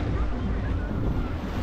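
Sea waves break and wash onto the beach at Playa Mamitas in Playa del Carmen, a continuous broad roar of surf mixed with wind buffeting the microphone.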